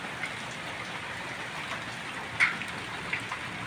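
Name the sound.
hail falling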